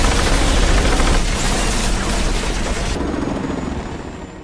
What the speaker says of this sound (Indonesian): Tak lama lantai paling atas itu diberondong oleh tembakan, yang ternyata itu helikopter milik Interpol